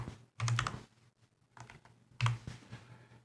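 Computer keyboard typing LaTeX: short bursts of soft, rapid key clicks in two main clusters, close and fairly quiet, with no talking.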